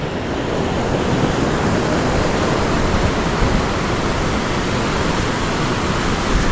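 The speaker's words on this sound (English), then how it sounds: "All that water coming down off the hill up there. Flipping heck. Look at it. It's an absolute torrent." A torrent of storm water rushing down off a hill during Storm Erin, a loud, continuous, roaring wash of water with no breaks, close and overwhelming throughout.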